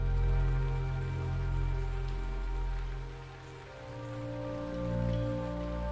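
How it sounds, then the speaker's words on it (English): Steady rain pours in the Teardown video game, a dense continuous hiss of drops on surfaces with a low rumble beneath, holding at an even level throughout. "Of course it's fudging raining."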